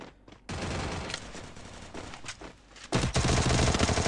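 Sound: gunfire in a video game shootout

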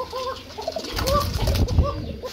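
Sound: pigeons cooing

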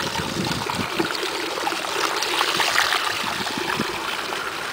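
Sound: maple sap pouring into carboy

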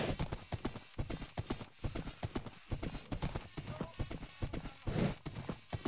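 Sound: horse hooves clip-clop in video game

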